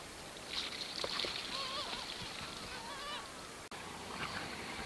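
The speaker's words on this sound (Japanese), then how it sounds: "おー、カモメが大集合してきた。" Seagulls off the coast of Kamakura call in a scattered chorus of squawks as they flock to food thrown from a boat, with steady wind and water noise underneath.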